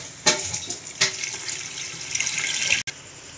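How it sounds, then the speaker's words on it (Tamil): Cups of water pour into a pot of rice for fish biryani in a home kitchen, a splashing gush that swells and continues for nearly three seconds before stopping abruptly. "2 கப்புக்கு நம்ம 4 கப்பு தண்ணி ஊற்றுறோம்."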